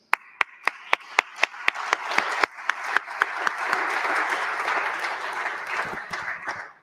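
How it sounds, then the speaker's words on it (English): Symposium audience applauding the organising team at a broadcast technology event, starting with a few distinct, evenly spaced claps near the microphone that swell into sustained crowd applause. "I would like that all of us now extend a big applause to the team."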